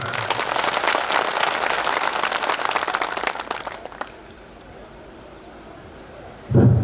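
Loud crowd applause at a Brahmin community Holi celebration gathering, continuous dense clapping for about four seconds before fading, then a brief burst of sound at the end.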